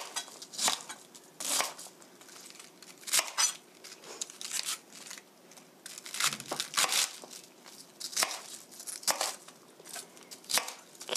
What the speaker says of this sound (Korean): 그냥 손으로 이렇게 떼놓으시고요